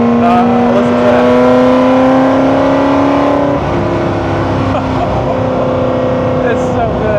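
A car engine drones steadily from inside the moving vehicle, a sustained tonal hum whose pitch drops about halfway through as the engine note changes, over a constant road rumble.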